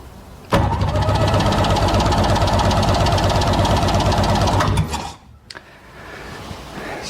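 A Sea-Doo engine spins on its starter during a compression test on the PTO cylinder, giving a loud, steady rhythmic cranking for about four seconds before it cuts off abruptly.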